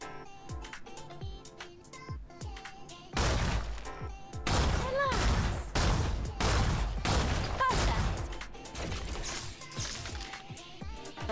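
Gunfire from a weapon in the video game Stellar Blade, a sustained loud burst of rapid shots and impacts mixed with game effects and music, starting after a quieter opening few seconds.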